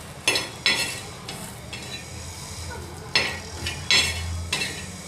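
Dried coconut roasting in a pan, stirred in scraping bursts at an irregular rhythm over a soft sizzle, close and fairly quiet.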